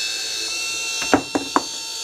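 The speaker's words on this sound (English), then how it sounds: "Yeah, the motor sounds really good." A restored Fill-Rite fuel pump motor runs on a bench test with a steady, even electric whine, broken by three sharp knocks or clicks in quick succession near the middle.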